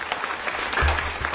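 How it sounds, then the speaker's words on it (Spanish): An audience applauds to welcome a guest onto a talk show stage, a steady spatter of clapping that holds throughout at moderate loudness. "le recibimos por favor con un fuerte aplauso"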